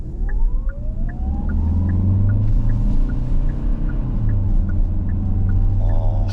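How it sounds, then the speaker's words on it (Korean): A Kia Carnival hybrid carrying six people climbs a gentle slope from a stop, its engine a steady, loud low rumble with a rising tone and no talk over it. "익숙한 엔진음이 들린다 싶었더니"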